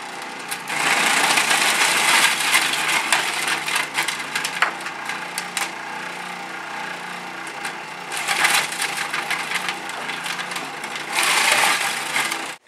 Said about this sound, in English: Now take your pieces, put them in your processor,